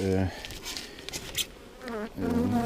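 A steady buzzing hum of honey bees at their hives fills the air, fairly close, with a voice speaking briefly in Polish at the start and end.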